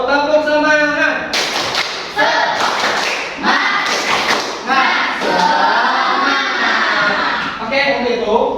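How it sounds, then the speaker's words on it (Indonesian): Schoolchildren in a classroom perform a rhythmic spirit clap chant, bursts of loud group clapping alternating with sung or shouted chanting voices in a repeating pattern. "Semangat dulu yuk, tepuk semangat."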